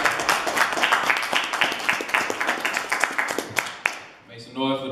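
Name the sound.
audience applauding and cheering for Marjan Flowers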